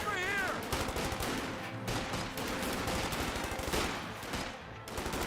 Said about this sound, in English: Pathfinders and riflemen firing away